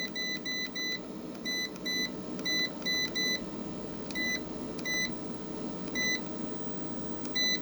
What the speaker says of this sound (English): I will turn off the beep, the alarm.